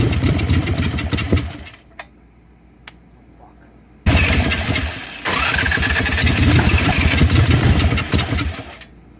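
An Ironhead Harley-Davidson Sportster motorcycle engine that is reluctant to run starts up, loud and close, with a few short cranking bursts and pauses before the engine catches and runs at a steady rumble to the end.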